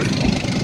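A seventh-generation Volkswagen Golf engine idles in a steady, low, even drone, close and unbroken for the short moment, with no voices.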